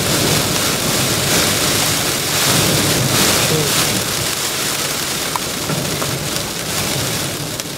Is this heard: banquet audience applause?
no